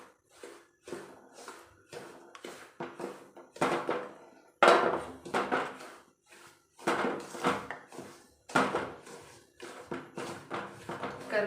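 Rava being stirred in a pan with ghee while making rave unde, a sequence of repeated scraping and knocking strokes from a spoon against the pan, fairly close and moderately loud, with no speech.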